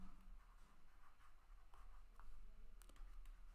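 Faint handwriting during a Class 8 maths lesson on cube roots: soft, close scratching strokes over a quiet room hum, with a couple of sharper ticks near the end and no talking.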